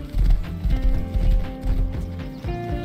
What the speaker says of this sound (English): Oh, somebody's already got a horse.